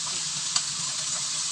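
Pumpkin goes into a frying pan with minced pork and spring onion, a steady close hiss of sizzling oil with a brief stir-like tap partway through.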